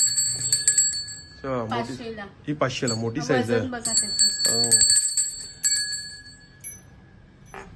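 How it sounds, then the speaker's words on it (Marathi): A copper or brass bell rings in a shop selling Ganpati festival puja items in Thane West, its bright metallic tones sustaining and chiming in short strokes beneath close conversation. "आणि घंटी आली आपल्याकडे ही"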